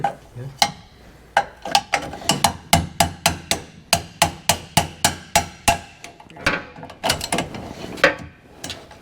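A screwdriver prying and knocking under a part of a combine harvester being overhauled, giving a rapid series of sharp metallic clacks and taps in a rhythmic run, close and loud.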